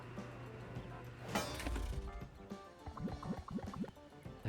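Liquid being poured to refuel a vehicle in the video game Speed Crew: a steady glugging fill with drips and splashes, mid-loud, running under game sounds and light clatter.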